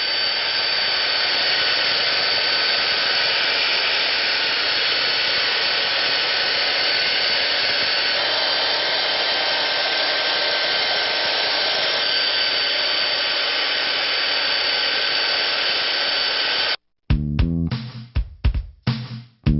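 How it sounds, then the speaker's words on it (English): A belt sander grinds steadily along laminate countertop edges, a loud continuous close whir that runs unbroken for a long stretch before cutting off into a few brief bursts and knocks. "I'll sand with a belt sander"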